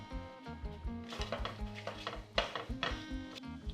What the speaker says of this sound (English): Into this preheating pan, add vegetable cooking oil. Into the pan, add the whole spices.